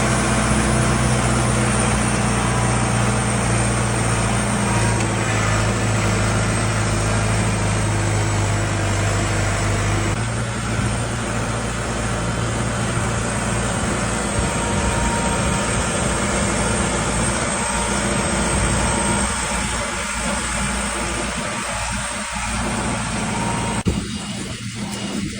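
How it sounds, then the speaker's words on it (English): A small John Deere tractor engine runs steadily on a farm in the early morning for haying, a loud continuous low drone with constant mechanical rumble throughout and no talk. "we're gonna jump on little John Deere this morning"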